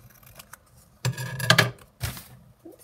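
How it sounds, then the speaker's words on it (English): Scissors snipping a small scrap of sheet music cover paper, a few crisp close cuts in quick succession with short pauses between, quiet and alone. "I'm just going to cut it to size roughly"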